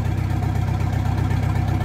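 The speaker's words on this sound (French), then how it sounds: "j'ai fait tourner le camion pour éviter que les batteries se déchargent. J'entends le bruit sans l'échappement." A van idling with its exhaust pipe removed, parked and run to keep the batteries from draining on a road trip in Portugal. The engine gives a loud, steady, close low drone throughout.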